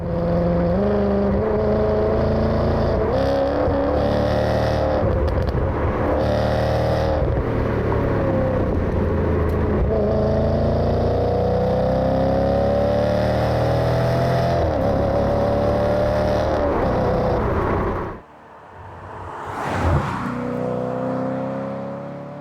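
Maserati GranSport engine accelerating on an open road, a loud sustained drone rising in pitch through the gears, then a sharp drop and a brief roar near the end.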